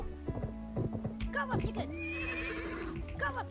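A horse gives a loud, wavering whinny lasting over a second, with hoof clip-clops and bursts of vocal sound around it, and a voice appears to imitate the horse.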